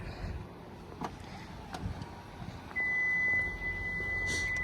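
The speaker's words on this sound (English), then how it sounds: "Keys, again, are in my pocket. That's what that beeping sound is." Quiet vehicle noises, then a steady electronic warning beep begins and continues with short breaks, close by and clear.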